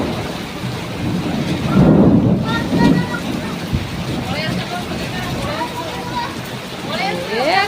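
Out-of-season thunderstorm with rain and gusting wind: a steady wash of rainfall with a low rumble of thunder near the start, while people talk throughout.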